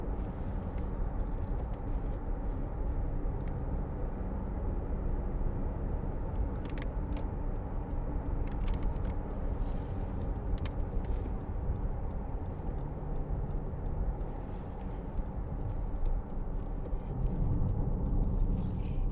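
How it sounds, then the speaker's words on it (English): A 2013 Honda CR-V 2.0 i-VTEC driven on the road, with steady low cabin rumble and road noise throughout, faint ticking, and a slight dip in engine tone partway through as the gear changes. "Lovely gear change."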